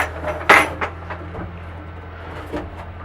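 A dog kennel lid is lowered and shuts with a sharp clattering knock, followed by a few lighter clacks and one more soft knock near the end, close by with no talking.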